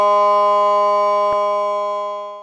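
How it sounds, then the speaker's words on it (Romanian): Civil defense siren sounding the disaster alarm signal during an exercise in Ploiești, a loud steady multi-tone wail heard up close that slowly fades toward the end. "Se va acționa sirena de alarmare cu semnalul alarmă la dezastre, compus din 5 sunete, a 16 secunde fiecare"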